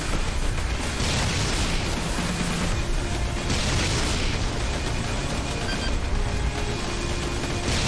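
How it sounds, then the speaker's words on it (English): Continuous dense rumbling bursts and booms from explosions in the video game I Wanna Take The Timemachine 2, loud and steady throughout with no talking. "good explosions here"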